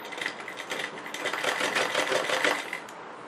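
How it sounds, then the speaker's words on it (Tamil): A sewing machine stitching a chudidar sleeve runs in a fast, steady rattling clatter, close and alone for a few seconds. "ஸ்டிச்சு வந்து ரொம்ப நெருக்கமாக போடாமல் நம்ம நார்மலான அந்த ஸ்டிச்சிலே வச்சுக்கணும்."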